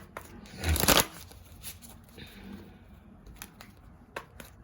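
Vintage Oracle cards shuffled by hand in a quick riffling burst, near and clear, then a few softer card slides and taps in a quiet room.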